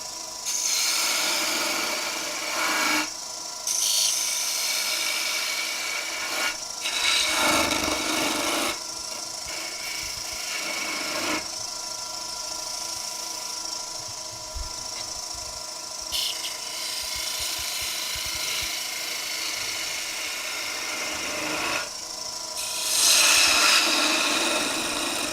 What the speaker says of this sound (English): So this is your point to sand.